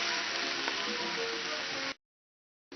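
A thin-cut steak sizzles loudly in a hot pan, a bright, continuous crackling hiss close by. It stops abruptly, then starts again after a short silence.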